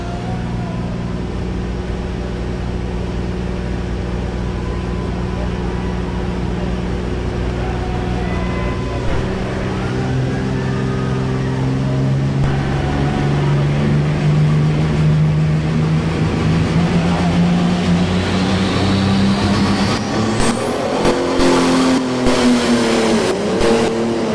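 A 9650 pro stock pulling tractor, the Hurricane Alice, roars at a tractor pull finals in Louisville, Kentucky, its engine building steadily from a drone to a rising, straining howl that peaks loud near the end.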